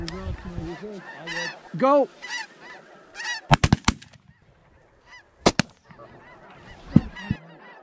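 Snow geese honk in flight during a duck and goose hunt, a flurry of nasal calls from several birds early on, followed by a cluster of sharp, loud shotgun blasts and scattered later honks, with a brief spoken word.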